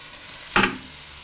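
A single quick scrape of a spoon through mirepoix vegetables frying in a soup pot, with a soft sizzle beneath it, close and brief.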